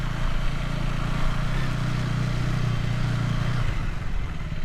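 Motorcycle cruising slowly along a road, a steady low engine drone with wind rumble, close and continuous, easing off toward the end.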